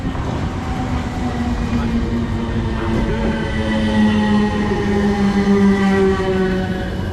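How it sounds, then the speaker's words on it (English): A train pulls into a station platform on the Clapham to Windsor line, a 455 electric multiple unit, with a loud continuous rumble of wheels and motors and a rising and falling hum that fill the whole clip. "here's our train, the 11:54 service, 455917."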